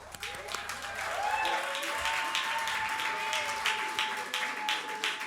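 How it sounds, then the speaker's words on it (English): An audience claps at a schools jazz and rock music festival in KZN, the applause swelling into a dense, steady patter while a voice speaks over it. "Come, applause."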